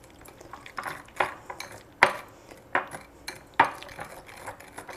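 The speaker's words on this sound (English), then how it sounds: "we just want to whisk it" A whisk rattles through an oregano mixture in a bowl, giving a series of sharp, irregular metallic clinks and scrapes with short pauses between strokes.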